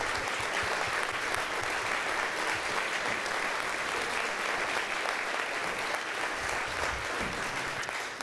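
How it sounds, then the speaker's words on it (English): Sustained applause from guests at a University Club of Pasadena centennial gala honouring standing board members, a thick, continuous roar of clapping from a large crowd that stays level throughout. "Let's give them a round of applause."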